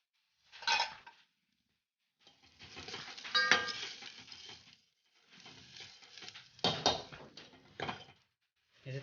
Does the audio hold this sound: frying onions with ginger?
yes